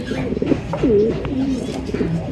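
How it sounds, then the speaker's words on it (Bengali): Giribaz pigeons cooing up close, with a few soft, rolling coos rising and falling one after another and no voices over them. "সুন্দর রেয়ার এই কবুতরটা, অনেক রেয়ার। এটা হচ্ছে শ্যাডাল গোল্লা কবুতর"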